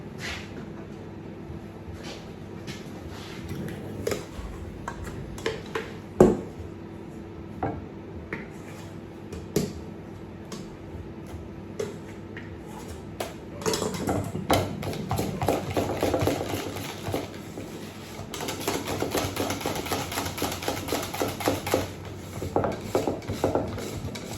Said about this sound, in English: Whipping cream now.